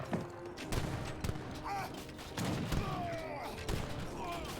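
Obus guns fire at crossbowmen in an Age of Empires 3 battle, giving scattered thumping shots and clatter amid busy game effects, fairly quiet and continuous.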